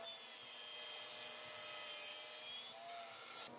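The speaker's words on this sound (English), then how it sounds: "cut the opposing miter" A saw cutting a wood miter for a keepsake box, with the piece set against a stop block, producing a steady, fairly quiet rasping cut that runs for a few seconds and ends abruptly.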